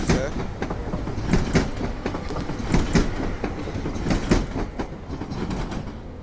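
An ED250 train rolls through Warszawa Zachodnia station in snow, wheels clattering over rail joints in a steady clickety-clack rhythm with a continuous rumble, close and fairly loud.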